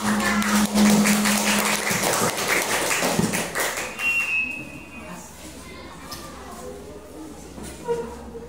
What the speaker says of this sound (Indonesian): Tangan dulu, tepuk tangan